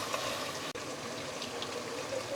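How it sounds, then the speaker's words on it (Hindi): Water is poured into frying masala in a pan while mutton bhuna cooks, giving a steady, broad hiss and sizzle throughout, fairly close and even, with one brief gap. "ये थोड़ा सा हम पानी डाल के मसालों को अच्छे से भूनेंगे"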